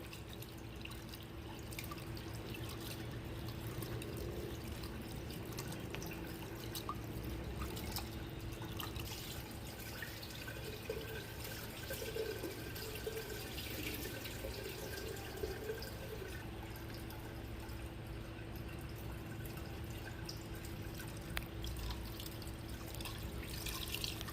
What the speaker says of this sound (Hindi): और मैं गोश्त को अच्छी तरह धोवांगी। गोश्त को अच्छी तरह धोना जरूरी है।